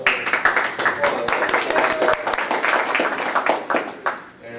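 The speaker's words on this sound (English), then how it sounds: "Let's give him a little applause." Audience applause at a church gathering, a dense burst of many hands clapping that fills the room and then fades out, with a voice coming in briefly near the end.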